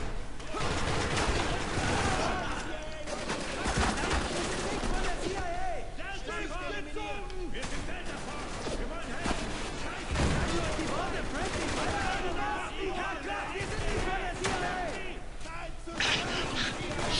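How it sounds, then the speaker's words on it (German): Spec Ops: The Line firefight, with repeated gunshots and bursts of automatic fire clattering throughout, loud and continuous, while people talk over the shooting. "Scheiße, Alter, die schießen voll auf die falschen Leute."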